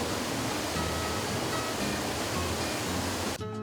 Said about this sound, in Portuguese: O Rio Preto surpreende com as quedas d'água escondidas nas pedras entre a mata.